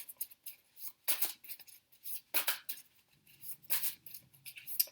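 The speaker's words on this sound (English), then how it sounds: "I get them a really good shuffle." Repeated crisp riffling and snapping bursts of tarot cards being shuffled, close and fairly loud, in quick irregular rounds with short pauses between.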